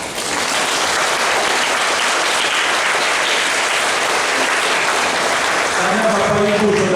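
A church congregation at a Divine Mercy feast Mass breaks into sustained, dense applause filling the room, with a voice emerging near the end.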